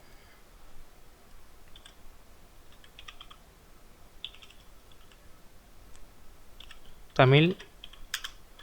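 Light clicks of someone typing on a computer keyboard while entering a title in video-editing software, sparse soft bursts at low level beneath someone speaking, with one louder sharp sound near the end.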